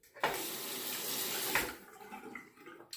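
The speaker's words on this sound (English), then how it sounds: "And now I'll wet the razor." A tap runs into a sink to wet a razor before shaving, a close, steady splashing rush of water for about a second and a half that then drops away to quieter drips.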